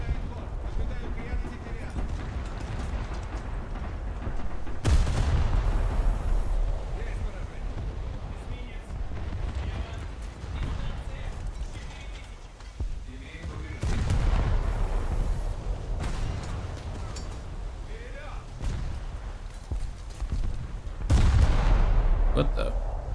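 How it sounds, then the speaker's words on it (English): Naval guns in War Thunder fire into the sky in heavy booming volleys, with several loud blasts and rumbling tails over constant engine and sea noise. "Like, I'm shooting into the sky."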